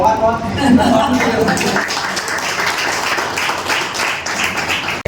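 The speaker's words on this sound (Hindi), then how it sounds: "तो बहुत सारी तालियां आप लोगों के लिए" Applause from visually impaired children and guests at a birthday celebration, a dense patter of clapping that runs throughout, with voices and some laughter mixed in at the start.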